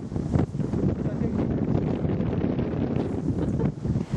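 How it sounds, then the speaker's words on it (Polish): Strong wind buffets the microphone outdoors at a fishing competition, a loud continuous low rumble with gusty swells throughout. "Trochę wieje, ale damy radę"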